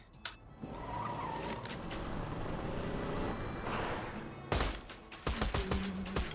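Car in the video game Borderlands 2 driving with engine roar and tire skidding, then sharp thumps and clatter toward the end, fairly loud and without talk.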